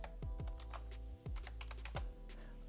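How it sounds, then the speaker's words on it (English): Rapid keystrokes on a computer keyboard, close and quiet, tapping in an uneven burst with short pauses between runs of keys. "Gonna speed up these times I'm typing because that takes forever."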